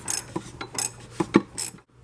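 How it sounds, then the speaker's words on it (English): Ratchet with a 1/2-inch drive, extension and 36mm socket working the oil filter cap loose on a Land Rover LR2, giving a string of quick, close clicks and metallic ticks spread across a couple of seconds, with no talking. "we're going to get on the cap of that with a 36mm socket and a 1/2-inch drive, ratchet, and extension"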